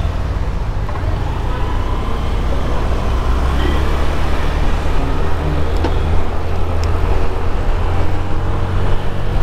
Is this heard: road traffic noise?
yes